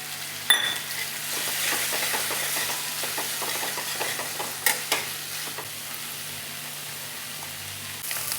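Fish frying in a pan for Bengali macher jhol with cauliflower and potato, a steady hiss of oil with light scraping and an occasional sharp clink, close and moderately quiet, with no voices.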